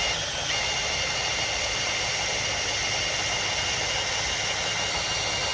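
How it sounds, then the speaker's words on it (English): Electric winch on a ham radio antenna install, raising a 2 meter and HF multiband antenna mast; a steady, loud motor whine and broadband hum runs continuously throughout, with no talking. "And here's my winch right here, and then they're just going to creep on up."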